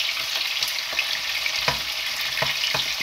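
Koftas frying in oil in a pan for kofta fried rice, a constant close sizzle with occasional light taps and stirs, no talk.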